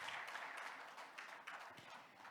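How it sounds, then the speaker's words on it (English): Faint, distant applause from an audience at an international sports safety forum, a soft continuous patter of many hands that stays low and even throughout. "Please give him another round of applause"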